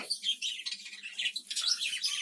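A colony of budgerigars chirps continuously, with many overlapping high tweets and chatter from several birds at once, fairly close and with no talk.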